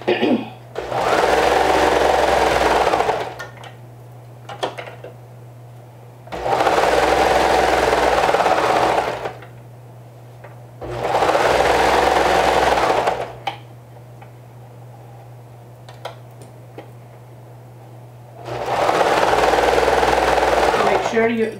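Sewing machine running a 1/2 inch seam allowance down the center back of a garment, in four long steady bursts of stitching separated by short pauses, loud and close.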